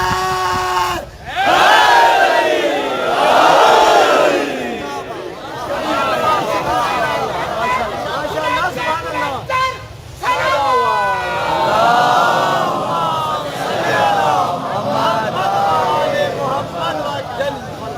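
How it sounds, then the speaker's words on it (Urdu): A crowd at a Shab e Juma majlis in Model Town, Lahore answers a slogan, many voices shouting together in loud repeated bursts with short pauses between them. "بلند کر کے پوری طاقت سے نعرے کا جواب دے گا"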